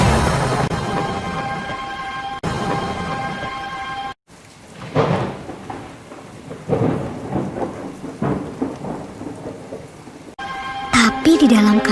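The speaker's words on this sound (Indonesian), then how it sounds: "Hujan turun sangat deras, sampai air menutupi ladang-ladang." Heavy rain pours down with rumbling thunder, broken by abrupt cuts and musical tones at the start and end.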